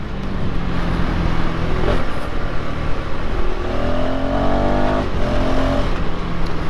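A KTM Enduro 390 motorcycle pulls hard with a loud, continuous engine drone that climbs in pitch through the gears, each quick-shifter change marked by a brief dip before the revs rise again.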